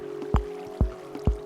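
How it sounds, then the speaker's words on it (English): Water is placed in Minecraft, giving three soft, wet plops at a steady rhythm over a quiet low hum, close and fairly faint. "So just place some water in the centers"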